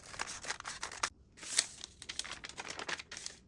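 Scissors snip through fabric when a drawn design is cut out for a winter jacket repair, producing a quick series of close, crisp crunching cuts with a brief pause midway; no talking.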